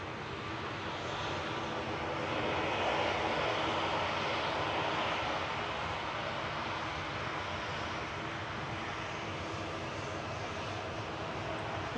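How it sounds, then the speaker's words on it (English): A Jet2 Boeing 737-800 jet lines up for departure, its engines a steady broad roar heard from a distance at an airport, even and continuous throughout with no talk. "Lining up to go next is Jet2's JZHN to Nice with flight 833,"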